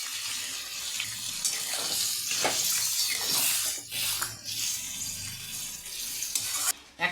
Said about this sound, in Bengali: আমার কষানো হয়ে গেছে, পরিমাণ মতন জল দিয়ে দিই।